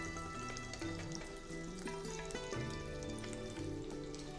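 Ghughra, fried dumplings, sizzle and bubble in hot oil with a steady crackle and occasional stirring, close and fairly quiet, no talking.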